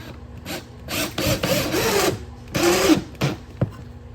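A power driver sinks screws into a wooden furring strip while a light valance is fitted to an HO model railroad shelf layout extension: two sustained whirring bursts of driving plus a short one, close and fairly loud, with a sharp knock near the end.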